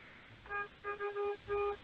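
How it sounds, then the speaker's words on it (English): A truck's car-style horn sounds in a handful of short honks, one after another with brief gaps, fairly clear and thin. "Honk your horn."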